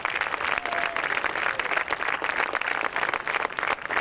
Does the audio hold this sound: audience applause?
yes